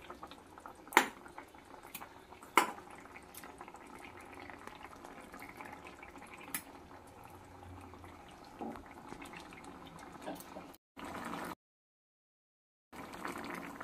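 Omelette pieces simmering in a boiling egg curry gravy, a faint, steady bubbling with a few sharp clinks near the start and a brief silent gap toward the end.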